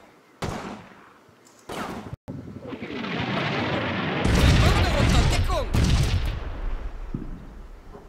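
An artillery strike lands in Combat Mission Fortress Italy, a World War II wargame set in Italy. After a few sharp reports, a heavy rolling barrage of explosions builds from about 2.5 seconds and peaks near 4.5 to 6 seconds, loud and dense, then fades.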